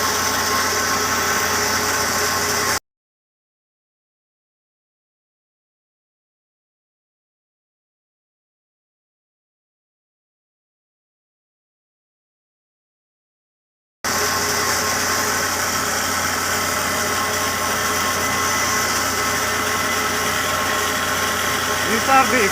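Jumbo drill rig working in a twin road tunnel under construction, a steady rumbling engine drone, cut off for a long stretch of silence before resuming.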